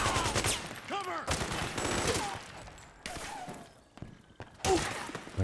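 Gunfire in Metal Gear Solid 4 during a battlefield firefight, repeated bursts of shots and impacts at close to middle distance with brief shouted voices between them.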